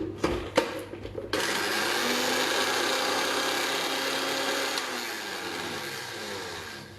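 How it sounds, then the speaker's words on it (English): Blender whirring steadily as it blends ceviche dressing ingredients for seabass ceviche, starting after a few short knocks and running loud and continuous for several seconds before easing slightly near the end. "So what we'll do is we'll just blend it up a little bit."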